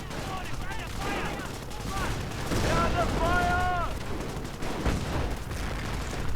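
Artillery and gunfire in a WWII strategy video game, including a StuH 42 acting as artillery; repeated bursts of shots and explosions rumble throughout, with whistling shell sounds in the middle.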